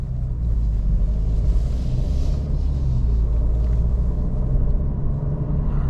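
A 2024 Alfa Romeo Giulia Competizione pulls away on the road, its engine a steady, loud low rumble with road noise that holds constant from start to finish, with no one talking.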